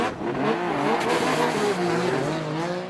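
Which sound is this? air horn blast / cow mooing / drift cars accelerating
drift cars accelerating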